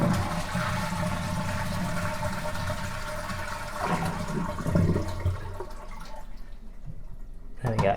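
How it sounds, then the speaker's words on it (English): A concealed cistern toilet flushing with its water supply turned off, a loud rushing gush of water draining the cistern that tails off to gurgles and silence, with no refill afterwards. "Now we should be able to empty the cistern."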